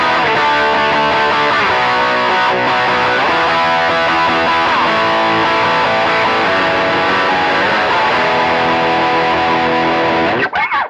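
Electric guitar on the bridge pickup, driven through stacked overdrives in an HX Stomp, plays a loud, continuous distorted passage of sustained chords for about ten seconds before cutting off abruptly.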